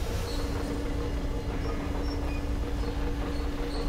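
A train in the video game Metro Exodus rolls along rails, a steady low rumble with a sustained humming tone running evenly throughout, no voices.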